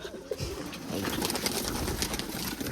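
Pigeons scuffling inside a cage, with dense flapping and fluttering wing noise, close and continuous, mixed with soft cooing throughout.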